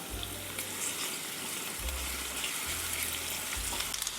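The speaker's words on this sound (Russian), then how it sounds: "Отправляю обжариваться сначала лук." Chopped onion fries in hot vegetable oil in a skillet for shakshuka, giving a steady close sizzle over a low intermittent hum.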